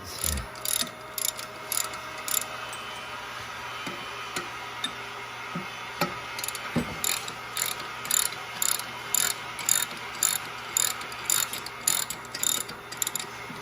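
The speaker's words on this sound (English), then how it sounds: "Use a block of wood and a dead blow. I tap the bolt heads." A dead blow hammer taps the bolt heads on an electric motor, repeated through a wood block in a quick, fairly regular series of close knocks. A faint mechanical hum sits underneath.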